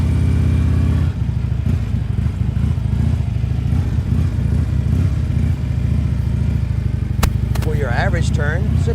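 A motorcycle engine running at a steady mid-pitched drone while the bike leans through a tight turn, with someone talking over it throughout.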